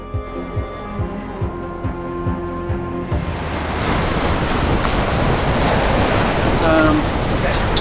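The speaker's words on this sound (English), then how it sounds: "Bouncing up and down waves going down the Bay of Biscay." Ocean waves slam against a racing yacht sailing south through the Bay of Biscay during a Portsmouth to Puerto Sherry Clipper race. Rhythmic thuds come first, then a loud, steady wash of surf and wind rushing past the microphone.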